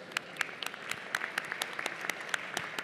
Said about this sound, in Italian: per l'intuizione della famiglia Grimaldi, a cui vorrei, diciamo, dedicare un applauso,